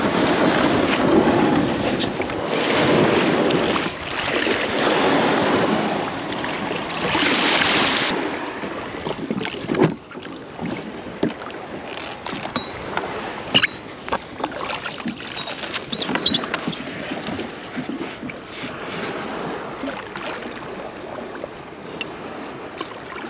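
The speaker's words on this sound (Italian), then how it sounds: "poi portiamo il nostro kayak in acqua" Kayak launched into the sea at a kayak fishing gathering near Salerno, with hull scraping and splashing, lapping surf and wind gusts, plus scattered knocks from paddle and gear over a steady watery background.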